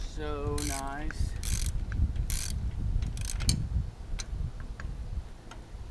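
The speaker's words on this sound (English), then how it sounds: "these ratcheting wrenches are so nice." Ratcheting wrench tightening hardware while a trailer jack is installed, with several quick clicking bursts and metallic ratchet sounds close by, and brief tonal squeaks near the start.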